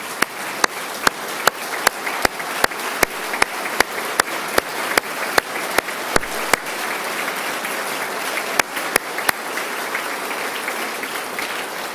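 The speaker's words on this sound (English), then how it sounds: "Please also stand so we can give you a round of applause." Sustained applause fills a large hall during the Ohio governor's State of the State address, a steady wash of many hands with a few sharp, regularly spaced claps standing out near the microphone.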